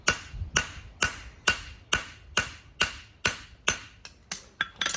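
A hammer forges metal on an anvil in a close, regular series of about a dozen sharp ringing blows. Each strike decays quickly, and the pace quickens slightly toward the end, with no talking.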